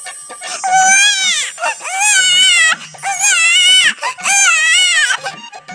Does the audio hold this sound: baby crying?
yes